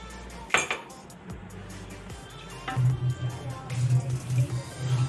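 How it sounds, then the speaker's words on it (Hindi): Cream of tartar being stirred into about a quarter cup of water in a bowl for sohan halwa, a spoon clinking and scraping against the dish in repeated light strokes, close and fairly loud. "थोड़े से पानी के अंदर हम अपनी ये टार्टरी घोल लेंगे"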